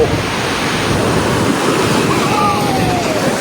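Ocean waves on a Konkan beach roll in as a steady, loud, broadband surf wash with some wind rumble, continuous and close throughout.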